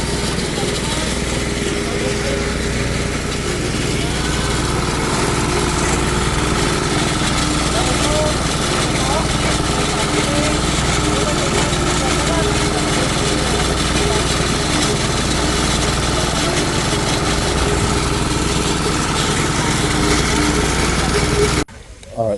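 A generator engine runs at a deep well drilling site in the Philippines, a loud, constant droning hum that stays close and steady throughout, cutting off abruptly at the very end.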